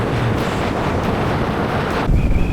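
Dense wind roar buffets the microphone while a Yamaha Ténéré rally motorcycle travels at speed, a loud continuous rushing blast with a heavier gust near the end.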